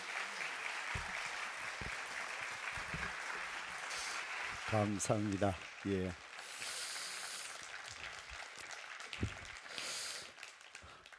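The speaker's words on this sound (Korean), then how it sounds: "우리 목사님 나오실 때까지 큰 환영의 박수로 부탁드립니다" A church congregation at a Holy Week special service claps in welcome for the pastor, fairly faint and sustained, while a voice speaks briefly over it midway.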